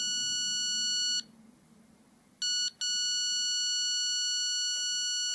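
An electronic wall detector sounds a high, steady beep that cuts out, returns briefly, pauses, then resumes as a continuous tone while the device is moved over a wall.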